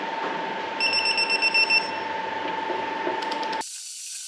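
A ratchet or torque wrench works on crankshaft bolts of a Toyota 1VD engine under rebuild, giving a run of quick mechanical clicks over a steady tone that ends abruptly.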